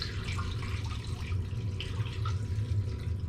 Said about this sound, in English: Add all that in there and then cover with water.